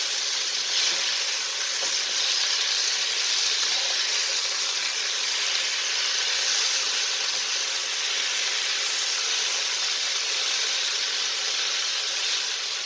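Potatoes frying in a hot pan, a dense, even sizzle and hiss that runs loud and unbroken from start to finish, with no talk over it.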